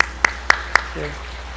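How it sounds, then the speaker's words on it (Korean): A small church congregation claps for a newly registered member: four sharp, evenly spaced claps ring out close and clear, followed by a brief murmur of voices. "네, 박수로."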